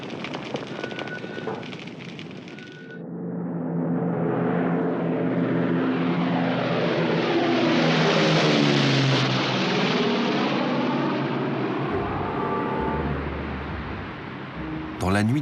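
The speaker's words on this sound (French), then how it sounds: "un avion décolle d'un terrain militaire en Grande-Bretagne" A propeller aircraft takes off from a British military airfield in wartime, its engine drone rising and swelling to a loud, sustained roar before fading slightly, with a voice talking over it.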